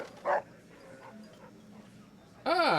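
Rex the hound dog in a Fallout video game gives a short bark early on, then a louder whining howl at the end, with quiet game ambience between.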